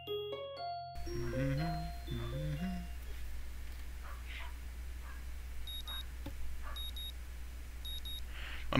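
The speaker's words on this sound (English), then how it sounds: "My morning alarm goes off" In the visual novel Katawa Shoujo, a short musical jingle opens the scene, then an electronic alarm clock chirps in repeated quick high beeps over a low steady hum.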